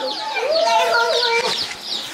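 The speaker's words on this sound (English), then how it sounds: "They just pulled in with our chicks." Chicks newly arrived at a home give high, rapid peeping and chirping calls, several overlapping nearby, with people talking alongside.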